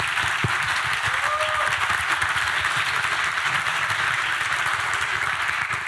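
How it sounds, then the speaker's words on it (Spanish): An audience applauds steadily and loudly at a communication and journalism school event, with dense clapping throughout and no pauses. "Por favor, un aplauso por todo el público."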